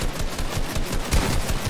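Gunshots in Fortnite, a quick flurry of sharp, closely spaced shots over a little more than a second, fairly loud and close with no talk.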